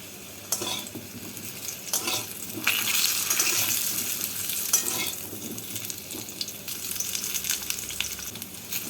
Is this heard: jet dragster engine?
no